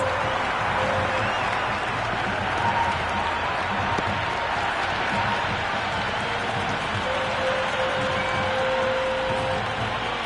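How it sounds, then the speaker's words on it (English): A large cricket stadium crowd at a T20 match roars and cheers continuously after a six, dense and loud throughout, with scattered clapping blended into the din. "Will you listen to that crowd? They are loving this."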